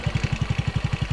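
A TVS XL 100 i Touch motorbike engine idles close by, with a steady, rapid thumping beat of low pulses and no voices over it.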